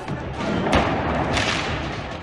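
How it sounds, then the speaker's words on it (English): Stun grenades and tear gas are fired inside Al-Aqsa Mosque, with loud, sharp blasts cracking out amid a dense wash of crowd noise and echoing commotion in an enclosed space. "Firing tear gas and stun grenades inside the mosque."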